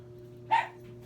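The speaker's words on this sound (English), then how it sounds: "Stop barking." A pet dog named Max gives a single short bark up close indoors, sharp and loud above a steady low background hum, with no talk.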